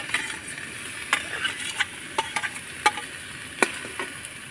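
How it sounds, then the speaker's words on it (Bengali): A spatula clacks and scrapes sharply against a pan as spices fry with a soft sizzle, the stirring strokes coming in uneven bursts, close and moderately quiet. "তো সব কিছু নাড়াচাড়া করে আমি ভেজে নিয়েছি"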